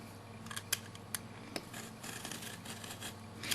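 Scissors cutting miniature wallpaper freehand, without a straight edge: a series of crisp, close snips and faint paper rustles over a steady low hum, with no speech.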